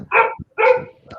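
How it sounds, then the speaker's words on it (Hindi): A nearby dog barks twice in quick succession, loud and sharp, with a faint short yelp trailing after the second bark. "किसी के वहां से कुत्ता भौंक रहा है"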